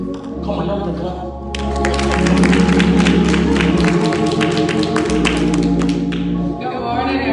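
A church congregation claps along during a youth service, rhythmic hand claps building to a loud, dense spell over sustained organ or keyboard chords, with music carrying throughout.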